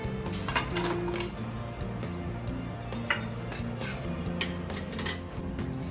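Steamed lauki muthiya pieces picked out of an opened steamer, with light clinks and taps of utensils against metal plates scattered over a steady hum, close and fairly soft, no talking.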